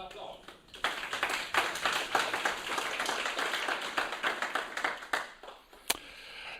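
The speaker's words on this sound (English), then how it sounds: "give Libratech another applause" An audience at a community tech event claps for a presenting company, a scattered but steady round of applause rising after a brief moment and continuing with uneven sharp claps, tapering near the end.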